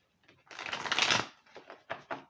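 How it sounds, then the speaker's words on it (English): A deck of tarot cards is riffle shuffled with a quick ruffling burst that swells and then fades, followed by several short, crisp card taps and snaps, close and fairly quiet. "Quick shuffle, ruffle shuffle."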